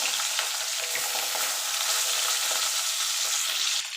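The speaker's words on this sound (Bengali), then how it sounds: "এবার এইভাবে আমি বাকি মাছগুলো ভেজে তুলে নেব।" Rohu fish pieces frying in hot oil in a pan, a steady, close, dense sizzle and crackle running throughout with no talk.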